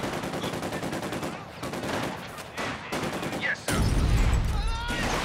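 A mortar squad fighting in the video game Company of Heroes 2, with dense, continuous battle gunfire and rapid shots crackling throughout and a heavier, louder burst of firing near the end.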